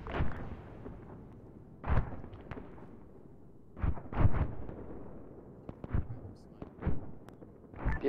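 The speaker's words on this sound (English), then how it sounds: "friendly mortars are landing off to the south" Friendly mortar rounds land in an Arma 3 firefight, a series of deep, booming impacts spaced irregularly across several seconds, some single and some in quick pairs, with distant rumbling between them.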